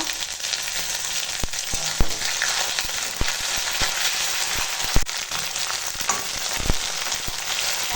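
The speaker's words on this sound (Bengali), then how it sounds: "এখন মশলাটা ভাজা হয়ে গেছে" Loud, continuous frying hiss of a garlic, green chilli, coriander and cumin paste in a hot pan, dense and crackling, with scattered sharp clicks of a utensil throughout.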